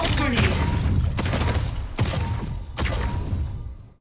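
A pulse grenade detonating in a video game, a burst of loud, dense blasts and crackling thuds in several heavy waves that cut off abruptly, close and dominant.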